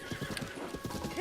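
In-game horse from Zelda: Breath of the Wild, with rhythmic clip-clop hoofbeats of a gallop and a brief neigh near the end, all within just over a second.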